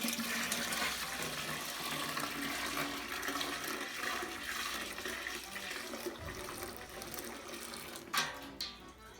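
About two and a half gallons of water pour from one bucket into a fermenting bucket for home-brewed beer, a continuous rushing splash that slowly softens before a couple of brief knocks near the end.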